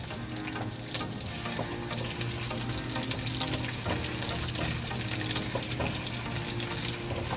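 Onions sizzle in hot oil in a pan, a steady crackling hiss with soft stirring scrapes throughout, close and fairly loud.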